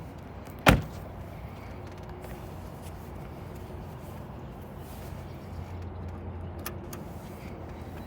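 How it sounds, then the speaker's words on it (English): A single sharp thud of a car door shutting near the start, followed by a quiet, steady background hum. "In order to do this, I'm going to close the door."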